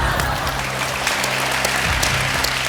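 A studio audience on an Indian TV game show claps steadily and loudly for about three seconds, a dense wash of applause with some low background hum beneath it.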